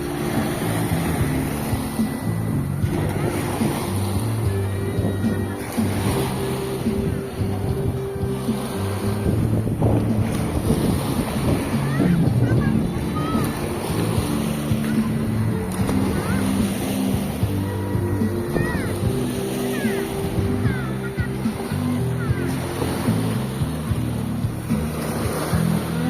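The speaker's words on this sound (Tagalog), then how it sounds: "Palakas ng palakas yung alon, no." Constant blustery wind buffeting the microphone over heavy, rolling ocean surf at a beach, loud and unbroken from start to finish.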